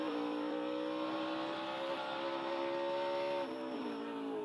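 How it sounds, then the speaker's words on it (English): A NASCAR Xfinity race car during qualifying at Circuit of the Americas, its engine droning steadily at low RPM through corner entry, the pitch dipping slightly near the end, heard at a moderate distance. "Listen how low the RPM get there."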